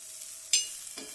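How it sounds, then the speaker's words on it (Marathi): Green chillies and garlic roast in a little oil on a hot iron griddle, heard as a soft steady sizzle with a brief stirring scrape, close and moderately loud, no voices. "परत त्याच्यामध्ये थोडंसं तेल टाकून घेतलेलं आहे आणि छान अशा मिरच्या आणि लसूण भाजून घेत आहे"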